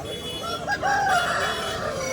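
A native rooster crows once, loud and close, at a Sunday country-chicken market in Vijayawada, with faint market murmur behind.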